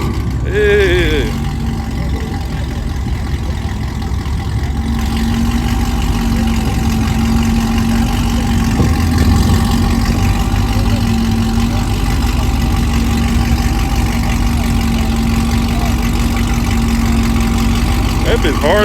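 A car engine idles steadily through its slightly damaged exhaust tip at a car meet, with a low, throaty rumble, close by and loud, holding the same tone throughout.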